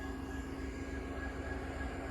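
CN 5405 freight locomotive switching at a railroad crossing in Pembine in November, giving a steady low rumble with faint sustained tones throughout and no voices.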